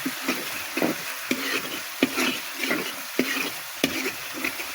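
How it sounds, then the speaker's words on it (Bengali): Mustard paste, onion, garlic and ginger sautéing for tilapia, with a spatula scraping and stirring in repeated rhythmic strokes over a steady sizzle, close and moderately loud, no talking. "সরিষা বাটা, পেঁয়াজ রসুন আদা সব কিছু দিয়ে ভালো করে কষিয়ে নিলাম"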